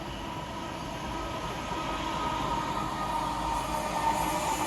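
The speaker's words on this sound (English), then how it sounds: "London Paddington to Penzance, currently 26 minutes late," A London Paddington to Penzance passenger train running late passes along the coast at Dawlish near Kennaway Tunnel, its steady rolling rumble and rail noise building slightly louder toward the end, with no talking.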